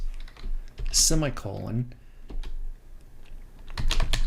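Keys clatter on a computer keyboard while web code is typed, with bursts of close clicking taps before and after a brief spoken word, the typing quickening toward the end.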